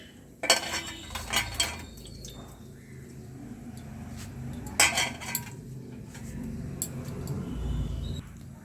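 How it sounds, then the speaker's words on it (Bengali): A metal spatula presses chopped kharkol leaves down into water in a cooking pot, giving a few clinks and scrapes against the pot with soft sloshing in between, close up, with a faint voice in the background. "চেপে চেপে খুন্তির সাহায্যে খারকোল পাতাগুলোকে জলের ভেতরে ডুবিয়ে দিলাম"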